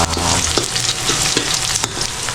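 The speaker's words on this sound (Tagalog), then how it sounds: "Pula-pulahin lang natin yung bawang" Garlic frying toward golden brown, a loud, close, continuous sizzle with bursts of crackling and occasional stirring knocks.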